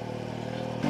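A Motobecane Moby-X1 folding French moped engine labours while riding slowly uphill with the engine cold, a steady droning buzz that rises slightly in pitch near the end.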